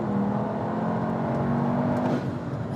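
Cupra car launching from a standstill in a 0-100 km/h acceleration test, a steady loud engine drone rising in pitch for about two seconds before easing off, close and continuous with no talk.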